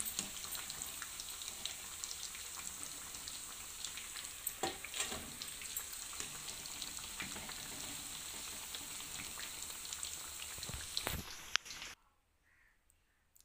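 Fish pieces fry in hot oil with a close, continuous sizzle and crackle broken by sharp pops. The sizzle runs steadily for about twelve seconds, then cuts off to near silence.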